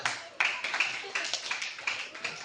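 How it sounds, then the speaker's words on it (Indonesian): A group claps hands during a class activity, a steady series of sharp, fairly loud claps in a regular rhythm with a few voices mixed in. "Oke, ganti tepuk tangan dulu."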